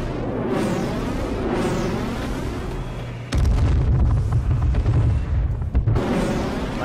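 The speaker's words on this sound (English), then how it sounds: "Might throw another airstrike." Airstrike explosions in an online shooter game, heard as loud, close, rumbling booms: a sustained roar from about the midpoint that overpowers everything, with lighter blasts before it and no voices.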